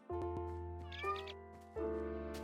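A cat meowing in Minecraft, a few short electronic-sounding meows in succession, clear and close against an otherwise quiet game background.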